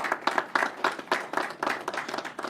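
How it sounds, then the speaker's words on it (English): A small group claps for police recruits at a Maryland county officials' event, quick scattered hand claps heard close and loud for a couple of seconds, with no talking. "Let's give them a round of applause."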